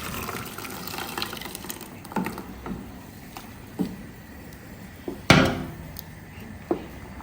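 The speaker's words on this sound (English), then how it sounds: "Go ahead and add our blended veggie to the soup." Blended vegetables are poured into a pot of Ghanaian beef light soup, heard as soft liquid splashes and gushes with a few sharper thuds and a pronounced splash midway.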